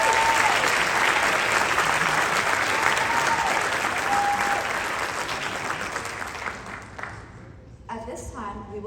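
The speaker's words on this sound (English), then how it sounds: "Please join me in giving a round of applause to our senior award recipients." Sustained applause from a high school awards ceremony audience honoring senior award recipients, steady and full before gradually tapering off into scattered claps.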